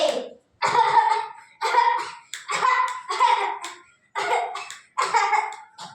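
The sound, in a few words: coughing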